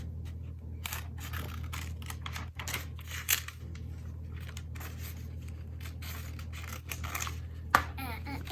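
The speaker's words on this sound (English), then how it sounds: "let me get my scissors and cut them" Scissors snip through paper in quick, irregular crisp cuts, close and fairly quiet, while making crayon-drawn bunny ears for an Easter craft.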